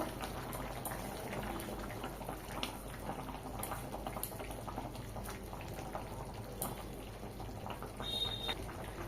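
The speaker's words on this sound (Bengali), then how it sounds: "ঝোল ফুটে গেছে, ভেজে রাখা মাছ দিয়ে দেবো" Fish curry broth with fried mourola fish and potatoes bubbling at a steady boil in a pot, a dense, constant low burble heard up close with no voices.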